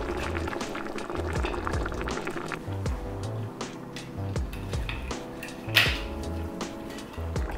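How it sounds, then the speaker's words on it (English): A pot of homemade corn chowder bubbles gently on the stove with the lid off, soft irregular blips and gurgles continuing throughout, with one brief louder clink or splash near the end. "I'll turn it down a bit so that it just simmers."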